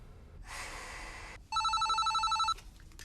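A telephone rings in a film scene: about a second of pulsing electronic trill, preceded by a soft, breathy rush of noise and followed by quiet.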